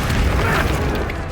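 An Expelliarmus spell cast in Hogwarts Legacy lands as a brief, dense magical burst, a loud whooshing boom that fills the moment and fades quickly.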